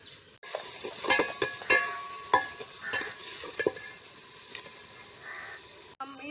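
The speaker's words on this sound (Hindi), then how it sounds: "तो अब हम इसमें चिकन डालेंगे, इसे अच्छे से फ्राई करेंगे।" Chicken frying in a pot for biryani makes a steady sizzle throughout, broken by sharp clanks and scrapes as a utensil stirs the pot, heard close and without talk.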